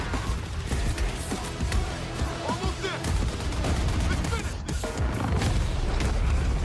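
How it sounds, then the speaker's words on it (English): Dense Battlefield 6 multiplayer combat with booming explosions and bursts of gunfire layered over one another, constant loud battlefield din with a voice talking over it. "The explosions are just top tier."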